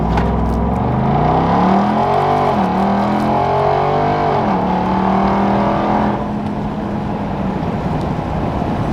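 A Ram TRX pickup with an aftermarket exhaust launches in a hard 0 to 60 run: a loud, close engine roar climbs through rising revs and gear changes, then settles into a steadier drone.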